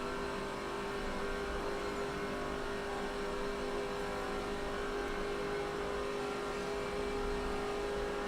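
Stock cars racing at Daytona in the NASCAR 06 video game, a continuous steady roar of engines at constant drone with no breaks, moderately loud and unaccompanied by talk.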